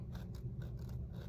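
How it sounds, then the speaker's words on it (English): Scissors snip quietly through paper or card during a journal-cover craft project: a quick series of faint, rhythmic crisp cuts close by. "sharpen my scissors a little bit."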